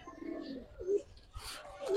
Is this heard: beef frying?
no